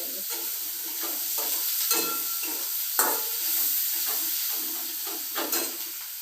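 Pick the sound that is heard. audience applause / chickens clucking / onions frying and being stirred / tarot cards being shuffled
onions frying and being stirred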